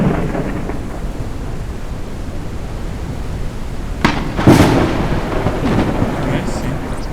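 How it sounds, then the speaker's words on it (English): A lightning strike in Forever Skies brings a loud crack of thunder partway through, over a steady wash of rain and wind, followed by a rumbling tail. "Lightning strikes the highest targets."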